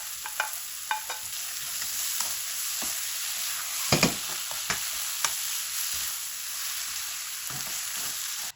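Apple gourd pulp stirred into hot oil in a pan, a steady close sizzle of frying with scattered scraping clicks from the spoon against the pan.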